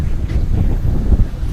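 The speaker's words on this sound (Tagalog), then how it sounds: "Mahangin ang panahon ngayon dito sa Zambales oh." Strong coastal wind in Zambales buffets the microphone with a loud, continuous low rumble and gusty roar throughout, with no talk.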